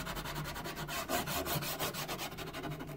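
Fingernails rub slowly over a Cricut stencil pressed onto prepped wood, giving quiet, close, scratchy strokes that repeat in an uneven rhythm with no voices.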